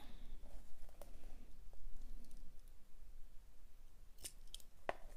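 Small scissors snip macramé thread flush while finishing micro macramé earrings, giving two sharp, close cuts near the end after a stretch of quiet handling rustle.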